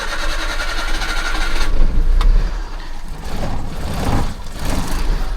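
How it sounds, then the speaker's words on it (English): Suzuki Carry kei truck with new plugs, wires and air filter cranking and catching, then settling into a rough, uneven idle with a few surges, close and fairly loud. "let me see if this car starts right now"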